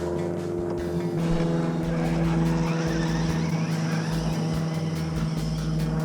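A Traxxas Hoss RC truck on a 3S battery whines and revs with quick rises and drops in pitch. The motor sounds loud and close throughout, with rapid surges as it drives.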